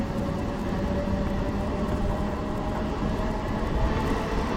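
Gudur MEMU Express 17260 rolls steadily along its route near Pitraguntla station, a continuous loud rumble of wheels and carriages with constant rattling and no voices.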